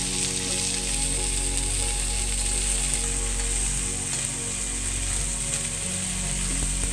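Cluster beans frying in a little oil, with a continuous close sizzle under a steady low mechanical hum and faint rattling clicks.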